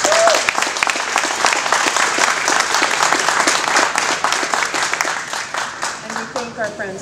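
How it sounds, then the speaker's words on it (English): A dense round of applause from an audience at a Children's Miracle Network charity celebration, steady and loud clapping that thins toward the end, with a few voices mixed in. "I think they deserve a round of applause."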